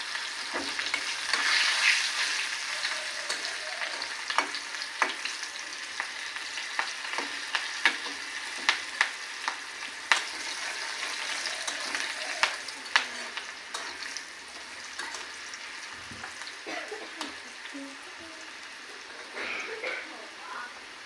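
Onion and green chilli fry in a pan with a steady sizzle, broken by frequent sharp clicks and scrapes of stirring, heard close with no talking.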